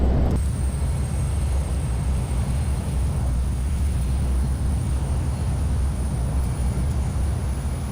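Simulated Avro Arrow jet in Flight Simulator X spooling up for takeoff: a steady, loud low-frequency engine roar with a constant high whine, sustained and unchanging throughout, with no voices.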